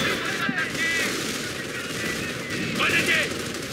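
Steady machine gun fire in the World War II strategy game Company of Heroes, continuous and moderately loud, blended with battle noise under faint voices.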